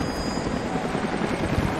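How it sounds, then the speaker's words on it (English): Helicopter rotor noise in the Rise of the Tomb Raider video game, a steady loud broadband chopping roar with no talking. "helicopters are headed your way"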